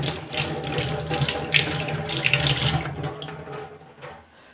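Tap water runs steadily into a plate or vessel in a home kitchen, a close splashing gush that tapers off at the end.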